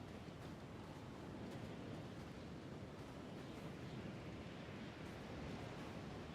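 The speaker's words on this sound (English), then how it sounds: "Nice and windy and cold." Wind blows steadily across the frozen tundra of Microtech in the space game Star Citizen, a constant broad rushing roar. It is faint and even, with no voices.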